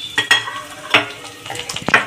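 Cumin seeds, green chilies and whole garam masala sizzle in hot oil, a crackling fry punctuated by several sharp clinks and scrapes of a spoon stirring the pan.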